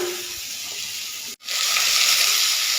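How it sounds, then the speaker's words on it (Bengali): Potatoes fry in hot oil in a wok with a steady, bright crackling sizzle that briefly cuts out, then returns louder and denser, close up and without talk. "আলুগুলো লালচে করে ভেজে নিচ্ছি"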